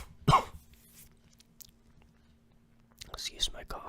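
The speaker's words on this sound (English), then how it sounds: "Excuse my coughs again" A single sharp cough near the start, followed by quiet breathing and soft mouth sounds, then faint whispered talk at the end in an intimate ASMR setting.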